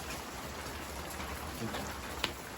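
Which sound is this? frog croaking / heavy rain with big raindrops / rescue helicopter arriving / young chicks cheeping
heavy rain with big raindrops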